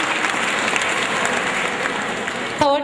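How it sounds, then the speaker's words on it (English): Parents clap at a high school annual day prize giving, a steady, dense burst of applause filling the hall throughout, with a brief voice rising at the very end. "Please clap, parents."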